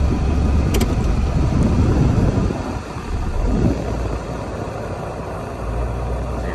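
Engine of a 1996 Mitsubishi Delica L400 Chamonix edition 4x4 running with a little throttle, a close, steady rumbling drone that dips briefly midway and then settles, with no speech.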